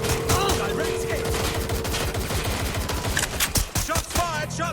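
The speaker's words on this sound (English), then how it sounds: "Shots fired! Shots fired!" Rapid gunfire bursts from the Watch Dogs: Legion video game, dense repeated shots layered over game music and effects, with a voice speaking briefly near the start.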